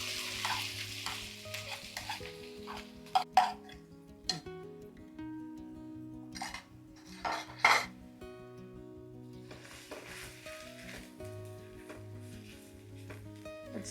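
Onions fry in hot oil for a restaurant-style chicken masala, sizzling steadily while a utensil stirs and scrapes them in bursts, with a few sharp clinks against the pan, close and moderately loud under quiet background music.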